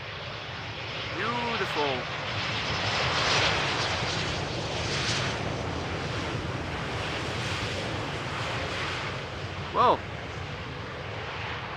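An Embraer jet arriving on runway 18R at Amsterdam Schiphol, a broad steady engine roar with wind noise over the microphone, while someone comments over it.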